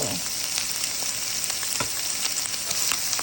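Rice fries with egg in a pan, a continuous bright sizzle with small pops and light stirring scrapes heard up close for a few seconds, with no talking.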